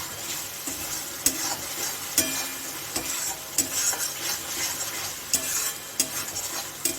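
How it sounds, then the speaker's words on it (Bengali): Tomato masala sizzling in a pan with released oil for a Bengali green banana kofta curry. A continuous frying hiss is broken by regular spatula scrapes and knocks against the pan, heard up close with no talking. "যে পর্যন্ত টমেটোর কাঁচার গন্ধটা না যাবে সে পর্যন্ত আমি এটাকে একটু কষিয়ে নেব"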